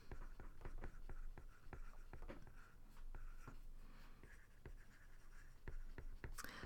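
A pen or pencil scratches out a handwritten geometry explanation, a close, quiet run of quick rhythmic strokes and taps with brief pauses between words, and no one speaking.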